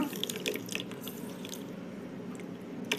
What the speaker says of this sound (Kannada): ಅದಕ್ಕೊಂದು ಕಾಲು ಗ್ಲಾಸಷ್ಟು ನೀರು ಹಾಕ್ಕೊಳ್ಳೋಣ